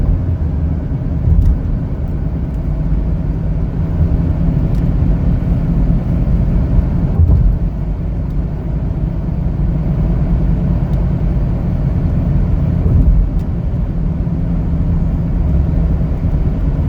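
A 2021 Chevrolet Equinox LS on the road, a steady low engine and tyre rumble with road noise that holds evenly throughout, with no one talking.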